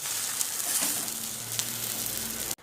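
Pav bread rolls sizzling steadily on a hot griddle while being toasted for pav bhaji, a continuous close frying hiss with a few light scrapes, ending abruptly in silence.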